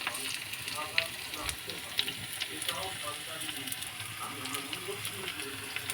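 Potatoes sauté in a pan with ginger and garlic paste, giving a continuous gentle sizzle and frying crackle with occasional stirring. A voice is heard faintly underneath.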